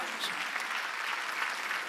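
A church congregation at a Wednesday worship service claps steadily together, a dense, even applause filling the room at moderate volume throughout.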